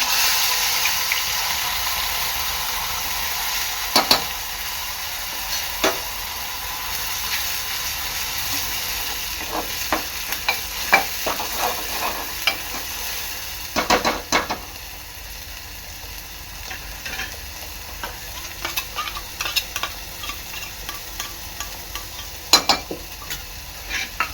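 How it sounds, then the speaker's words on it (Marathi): Ground masala paste cooks in hot oil for a sour fish curry, a loud steady sizzle and hiss that eases gradually, punctuated by scattered clinks and scrapes of a spoon against the pan, with no speech. "तेल चांगलं गरम झालेलं आहे आता मी टाकणार आहे कढी आपलं वाटण"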